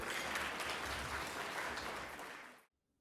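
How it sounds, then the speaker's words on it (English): Guests at a 2019 ABSC annual gala dinner give a full, steady round of applause that fills the banquet room, then tapers and stops abruptly, leaving near silence. "Ladies and gentlemen, a huge round of applause for David."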